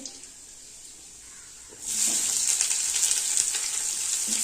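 Crushed garlic and chopped onion hit hot oil with dried red chillies and black cumin seeds, a quiet pan suddenly bursting into a loud, steady sizzle that carries on to the end.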